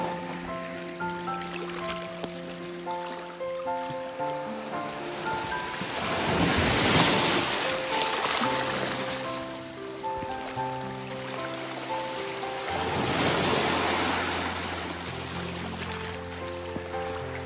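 Ocean waves break and wash up on a rocky seashore at Tanjung Kubong, Labuan, Malaysia, a continuous surf roar that swells twice into louder crashes, with soft background music playing beneath.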